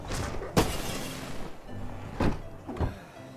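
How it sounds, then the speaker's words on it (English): In the video game King's Quest, a lantern breaks with a few sharp shattering cracks and thunks spaced over a few seconds, fairly loud and without talk. "Ugh, these dumb lanterns are always breaking."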